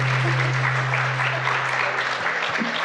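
An audience at a celebration event applauds, a dense, steady clapping that holds evenly for about three seconds.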